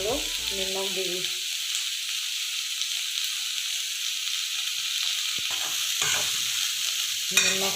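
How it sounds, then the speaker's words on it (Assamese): Salt being stirred into drumstick (sojina) masala frying in a pan, a steady close sizzle with scraping spoon strokes that grow more frequent toward the end, with no talking. "মছলাৰ লগত মিহলি কৰি দিছোঁ।"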